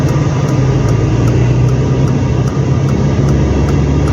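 A loud, close diesel engine of a 2024 Mitsubishi Triton Athlete pickup drones steadily while downshifting, with a low rumble and a faint ticking pattern running through it.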